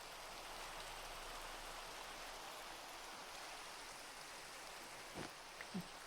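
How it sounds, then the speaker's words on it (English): Steady rain falls in a Minecraft world, a continuous even hiss of drops that carries through the whole stretch with no voices over it. "It's raining again?"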